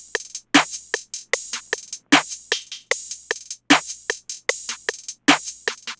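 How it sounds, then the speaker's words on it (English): An open hi-hat sample for a dark trap beat repeats in a steady, driving pattern, each bright hissing hit decaying quickly before the next, with brief gaps between groups of strikes and nothing else playing. "Then I add this repetitive open hat."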